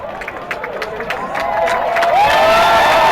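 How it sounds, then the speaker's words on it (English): Spectators at a quidditch match clapping and cheering, the noise rising and swelling toward the end, while voices call out over it near the start. "Crowd applauding the effort."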